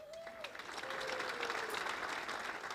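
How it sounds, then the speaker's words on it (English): An audience at a junior Australian football awards night in Brisbane gives faint, distant applause, a soft steady patter of many hands lasting a few seconds with a faint tone running through it. "please save your applause to the end, or at least until the end of the 4"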